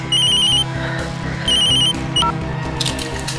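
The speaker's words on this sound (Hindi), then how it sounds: "बेटा तो फोन उठा ले, मैं ये सब कर लूंगी।" A telephone bell rings in repeated bursts, loud and close, over a steady musical background in a Hindi crime drama scene, with no speech during the rings.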